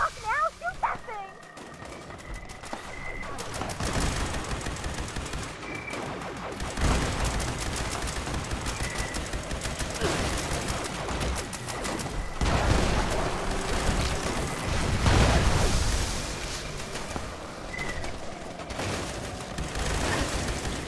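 Heavy video game gunfire erupts in repeated bursts and booms, mixed with barking-like creature noises and a dense battle din, while people talk excitedly over the action.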